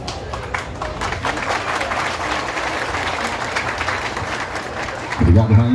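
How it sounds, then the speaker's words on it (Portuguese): Crowd applauding at an outdoor town square festival in Tiros, Minas Gerais, Brazil: steady, dense clapping that holds throughout, ending with a louder burst of voices near the close. "Mais aplausos por mim"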